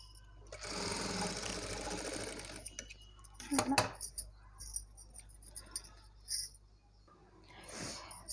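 A sewing machine stitching a small frock for a newborn: a rapid, steady whirring run of stitches for about two seconds, then quiet handling clicks and fabric rustles, with a short burst of stitching again near the end.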